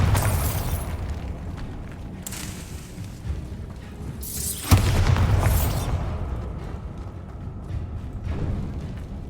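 Bombarda spell explosions in the Hogwarts Legacy video game: a few loud booming blasts with bright bursts, the sharpest near the middle, over a rumbling game soundscape with no speech.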